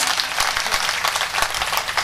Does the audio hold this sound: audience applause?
yes